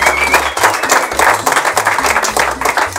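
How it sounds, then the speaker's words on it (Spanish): Loud, dense applause and clapping from a crowd greeting a band, sustained and steady for the whole few seconds with no talking over it. "por el cual pido un fuerte aplauso"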